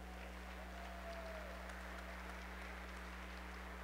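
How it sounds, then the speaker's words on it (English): Steady, even applause from an audience at a neighborhood empowerment awards ceremony, fairly faint and distant, carried over a constant low electrical hum. "a round of applause for SAFE, right?"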